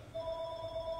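A telephone rings in a Thai temple dharma broadcast, a steady electronic tone held for about a second, clear and fairly loud with no talk over it.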